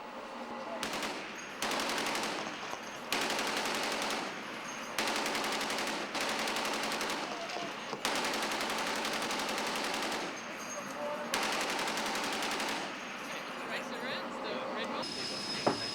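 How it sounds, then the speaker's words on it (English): Bursts of heavy .50 caliber machine gun fire from a navy ship in long rapid strings, separated by short pauses, loud and close over a steady background rumble. "Sailors at action stations clad in bulletproof vest fired rounds from .50 and .40 caliber guns."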